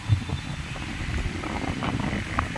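Strong wind rushes outdoors as a storm approaches, a steady low roar with gusty buffeting across the microphone.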